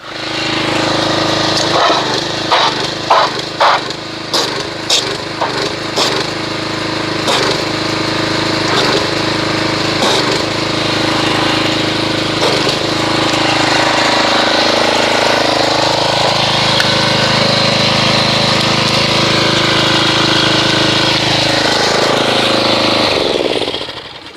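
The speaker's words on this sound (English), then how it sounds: "I'm going to get the pressure washer and we'll agitate this and see what kind of foamage we get" A pressure washer runs steadily and loud, agitating car shampoo into thick foam. Its motor is sputtery for the first few seconds, then settles into a continuous drone that dips in pitch briefly near the end, with no voices.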